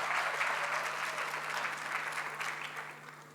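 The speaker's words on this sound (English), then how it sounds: "Graduates, can you please give them a huge applause?" Applause fills the hall at a graduation ceremony, a steady dense wash of many hands clapping for several seconds and fading slightly toward the end, with a low steady hum underneath.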